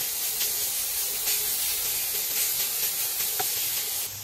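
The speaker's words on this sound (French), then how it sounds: "Je mélange bien et s'il le faut, j'écrase un peu les gros morceaux." Minced meat frying in an already hot pan, a steady dense sizzle and hiss running throughout with soft scraping stirs and light knocks of a utensil breaking up lumps, close and continuous with no talk.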